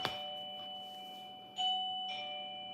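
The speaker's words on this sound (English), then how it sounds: "She rings the doorbell to come in." Doorbell rung by a dog named Daisy from outside the house, sounding as an opening strike followed by two further bright chimes about half a second apart, each ringing out over a steady background hum.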